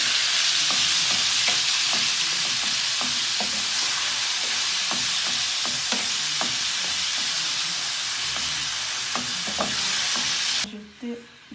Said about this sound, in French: Je vais mélanger. Je vais bien mélanger.